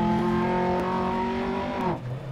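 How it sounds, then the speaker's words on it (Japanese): Tires squeal over a steady, loud engine drone as a rally car slides on tarmac in Dirt Rally 2.0, the screech holding for nearly two seconds before cutting off abruptly. "タマックだとちゃんとタイヤが鳴ってくれるから分かりやすいね"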